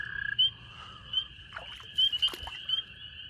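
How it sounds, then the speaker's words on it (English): Spring peeper frogs keep up a steady high-pitched piping chorus at night, with brief splashing and rustling noises nearby on top. "Another pair of spring peepers."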